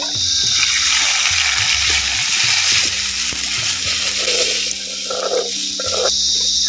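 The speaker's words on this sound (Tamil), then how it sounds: "கரைச்ச புளி தண்ணி மசாலா வந்து சேர்த்துக்குவோம்." Tamarind masala water poured into a pot of fish curry, a steady splashing gush that runs throughout at close range over a low background hum.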